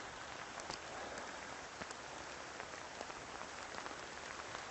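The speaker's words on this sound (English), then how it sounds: "we've kind of been smothered by rain and humidity" Rain falls steadily as a dense, even hiss with scattered soft drop taps, fairly faint and continuous with no voices.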